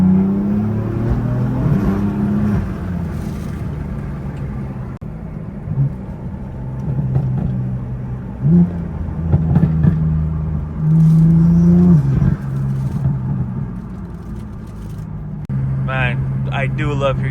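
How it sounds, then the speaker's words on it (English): Exhaust of a BMW F82 M4 while driving, a steady low rumble with swells of revving and a few louder surges, close and continuous beneath occasional talk. "Let's get another little exhaust clip for y'all."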